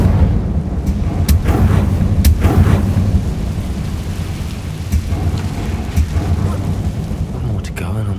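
Incendio fire spell cast in Hogwarts Legacy, a dense roaring, crackling rush of flame with a few sharp bursts, loud and continuous throughout, with a voice speaking over it.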